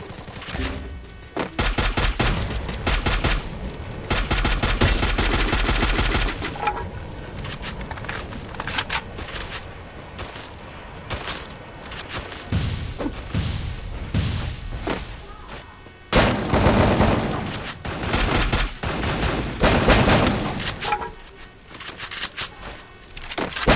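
Rapid gunfire in the mobile shooter Free Fire, with dense automatic bursts and scattered single shots crackling loudly through most of the stretch, pausing briefly between volleys, with faint game sounds underneath.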